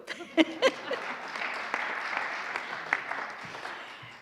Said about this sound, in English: Now we can clap for those two.